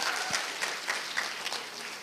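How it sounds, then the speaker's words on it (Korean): Student audience at a high school lecture clapping, a short spread of quick overlapping claps with a few sharper hits, fairly soft and steady throughout. "박수 한번 쳐주세요."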